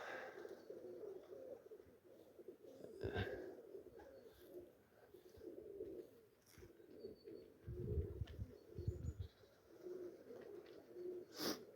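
Pigeons coo repeatedly in low, throaty phrases at moderate distance, with scattered rustles and a few sharper knocks in between, and no one speaking over them.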